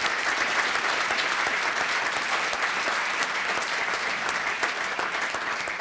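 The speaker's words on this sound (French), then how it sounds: "Je vous propose de regagner vos places, voilà, sous les applaudissements." An audience at a French leadership awards ceremony gives steady, dense applause, close and loud, holding at an even level throughout with no talk over it.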